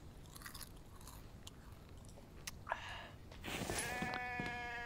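Sheep bleating in the survival video game The Infected, heard as a few faint, wavering bleats late in the clip over low game ambience and soft crunchy clicks.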